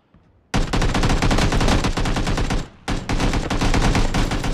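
Dense rapid-fire gunshots from a video game battle, a loud continuous automatic volley that breaks off for a moment, then resumes just as intensely.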